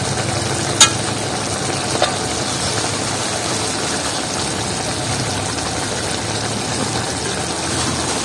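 Fish curry made with lote fish sizzling and frying in a pan after ground cumin is added, a steady close hiss of bubbling oil with a couple of faint clinks of a utensil.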